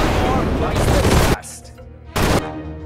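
Soldiers in Sudden Strike 4 unleash a loud burst of sustained automatic gunfire that cuts off abruptly, followed by a brief second volley after a short gap.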